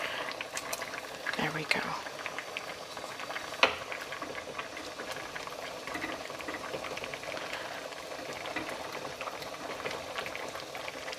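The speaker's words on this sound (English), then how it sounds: "just let that simmer" A pot of three sisters stew with pumpkin and hominy bubbles at a steady simmer, a close, continuous soft boiling burble with a clink or two, while someone speaks briefly over it.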